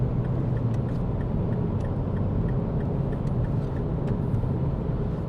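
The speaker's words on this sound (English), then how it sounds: "The car's got just enough go in it for small overtakes like that" A MINI Clubvan picking up speed to overtake at around 50-60 mph, heard from inside as a steady, dense road and engine rumble that holds evenly throughout with no talk over it.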